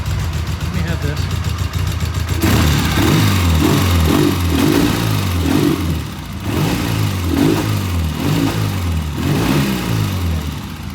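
A vintage British motorcycle engine runs roughly on a test ride, its loud revs surging and sagging in an uneven, stumbling rhythm as it misfires, with a brief dip midway and people talking over it.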